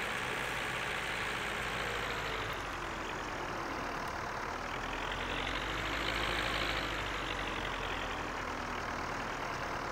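A tractor engine idles and runs steadily in Farming Simulator 19, a continuous low droning hum with a gently rising and falling tone, close and even throughout, with no talking.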